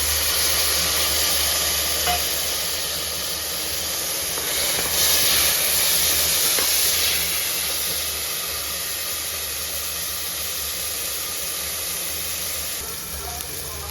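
Continuous loud sizzling and hissing of chopped tomatoes frying in a hot pan for green pea kurma, steady throughout with occasional faint stirring scrapes.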